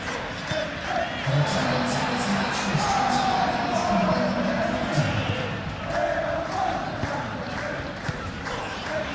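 Football stadium crowd at a Premier League match between Wolverhampton Wanderers and Liverpool, a steady roar of many voices with swells of applause and shouts, heard continuously at a distance.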